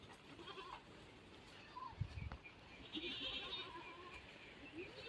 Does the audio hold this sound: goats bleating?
yes